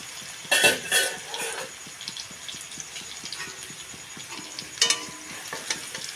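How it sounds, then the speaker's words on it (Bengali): Sweet and sour raw mango fry being lifted out of a wok: a few sharp metallic scrapes of a spatula against the pan, near and clustered, over a soft continuous sizzle. "এবার আমি একে কড়াই থেকে তুলে নিব।"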